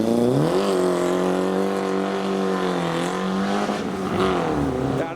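A BMW E30 leaves a classic car show, its engine droning loud and close with a steady revving pitch that dips and climbs again as it pulls away. Other engine noise from the show sits in the background.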